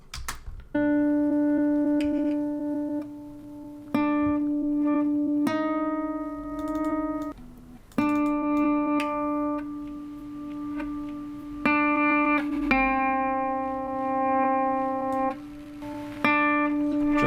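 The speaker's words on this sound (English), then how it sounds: "the compressor and bring out those little quavering tones" Electric guitar notes run through a compressor for experimental music, sustained harmonic tones quavering and squashed, with new notes struck every second or two, loud and alone, with a touch of grit.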